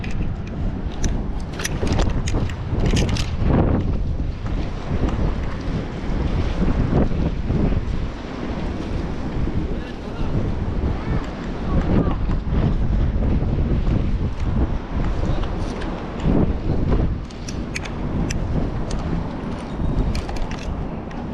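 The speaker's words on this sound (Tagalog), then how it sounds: "Hindi po tayo makakapaghagis doon sa kabilang mga kahasang dahil pasalubong po yung hangin" A strong headwind buffets a fishing boat at sea, roaring steadily across the microphone with gusting rumble and waves and spray behind it, no voices heard.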